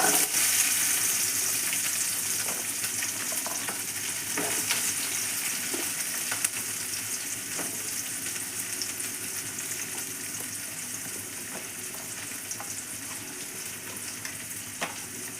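Mustard seeds pop and crackle in hot oil ahead of chopped onions for a spinach and lentil dish, a steady close hiss with scattered small pops throughout, slowly easing in loudness.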